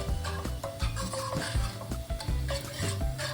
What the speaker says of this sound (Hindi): and now I will cook the onion in this